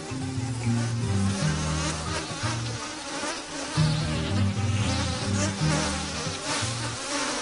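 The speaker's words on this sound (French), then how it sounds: "Les abeilles virevoltent autour de lui." A swarm of bees whirls around a figure near a hollow tree, a dense, continuous buzzing drone, loud and close, with wingbeats rising and falling throughout.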